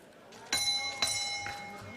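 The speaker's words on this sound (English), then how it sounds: "At the sound of the bell" A boxing ring bell at a professional bout in Florence rings three quick, bright metallic strikes about half a second apart, each ringing on briefly, over a quiet arena murmur.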